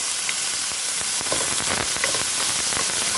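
Chopped onion, about one and a half onions' worth, sautés in a hot pan with a loud, steady hiss and sizzle. Irregular crackles and stirring scrapes sit close to the microphone throughout, and no one speaks.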